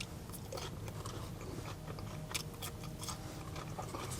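Crisp Five Guys potato chips crunch steadily between the teeth in close, continuous bites, with sharp crackles scattered through a dense chewing texture.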